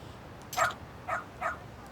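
A dog in the video game Lost Judgment gives three short, separate barks or yips at a moderate distance, evenly spaced over a quiet background.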